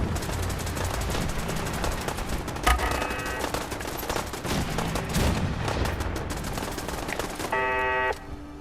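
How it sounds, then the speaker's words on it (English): Dense, loud video-game gunfire, with rapid machine-gun bursts and volleys of shots running continuously throughout without a break, joined by a few heavier booms. "Oh, now they start freaking shooting."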